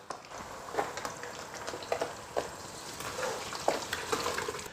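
Pork ribs deep-fry in hot oil over high heat, giving a quiet, continuous sizzle and crackle with small popping bursts throughout.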